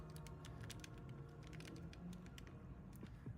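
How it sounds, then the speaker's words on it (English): Quiet clicking of a mechanical computer keyboard during a typing test, a steady run of light, closely spaced key taps over a low background hum. "Let me know in the chat if you guys can hear the keyboard well enough"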